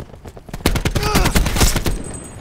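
Gunfire from Call of Duty Black Ops 4 rattles off in loud, rapid bursts of close automatic shots that run together into a fusillade, with faint game voices underneath.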